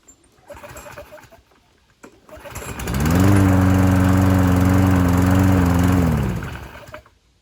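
Toro self-propelled lawn mower engine starting after a pull and running steadily at a loud, even drone for a few seconds before cutting off, with birds cooing faintly before it starts.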